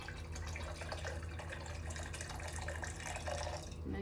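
Steady stream of cold and boiling water pouring and splashing into a container, continuous and fairly loud, no talking.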